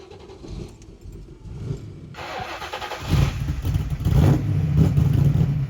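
A 1969 Mustang Fastback fitted with mufflers, cutouts closed, cranks with a brief starter whir, catches, and settles into a loud, steady, muffled idle heard close by.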